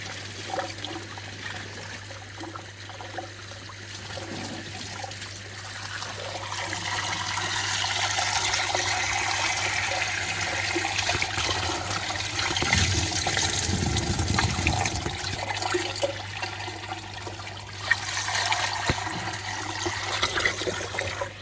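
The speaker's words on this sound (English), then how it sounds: "get the hose pipe, give the chamber a good flush out" A hose pipe gushes water to flush out a koi pond filter chamber, giving a continuous splashing, pouring rush that swells and eases over about twenty seconds, close and without talk.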